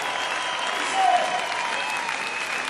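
Audience applause in a live Musikantenstadl television show, a steady even wash of clapping from a large crowd that swells briefly near the middle, with no talk over it.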